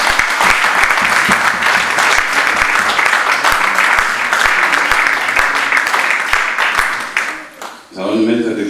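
A church congregation claps together in a steady rhythmic beat, loud and full, with voices cheering over it, before the applause breaks off near the end and a voice takes over.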